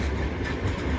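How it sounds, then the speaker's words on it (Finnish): Kolari night train rolling past close by, a steady loud rumble of railcars with faint clickety-clack from the wheels, no voices. "tässä menee tämä Kolarin yöjuna"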